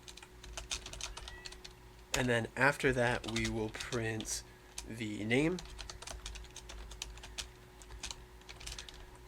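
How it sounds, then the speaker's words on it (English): Rapid clicking of a computer keyboard continues throughout while a person speaks briefly in the middle. "I'm typing it"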